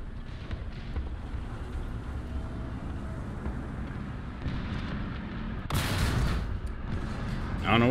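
An Object 248 tank gun firing in War Thunder, a single heavy boom bursting out loud mid-battle amid rumbling engine noise and distant combat, followed by a voice.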